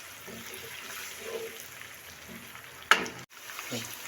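Chopped capsicum frying in a pan for a boiled mixed-vegetable dish gives a low, steady sizzle throughout, with a single sharp clatter near the middle.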